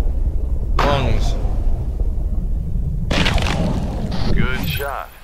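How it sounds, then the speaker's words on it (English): A hunting rifle shot in the video game Cabela's Big Game Hunter Pro Hunts, a sharp booming report over a steady low game rumble, with voices talking around it. "Take the shot, and hopefully we'll get him."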